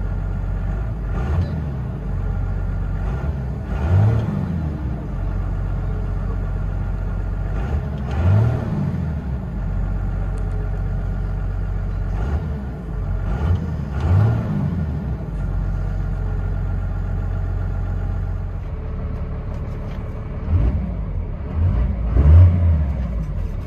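Deep Dodge Ram 5.9L Cummins turbo diesel engine rumble from inside the cab, swelling in repeated revs every few seconds over a steady low drone.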